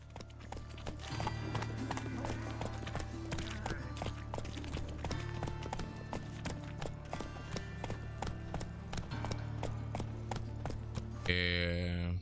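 Horse hooves clip-clopping at a steady trot in The Witcher 3: Wild Hunt, a regular rhythmic clatter over game music and ambience, with a voice talking and a brief change of sound at the end.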